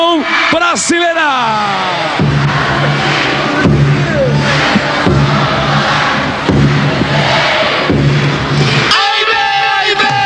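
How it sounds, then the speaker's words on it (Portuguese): An auditorium audience cheers and shouts for the group Razão Brasileira, a loud, sustained crowd roar with whoops and bellows, under an announcer's voice throughout. "Esse auditório vai aplaudir, vai cantar, vai vibrar com Razão Brasileira."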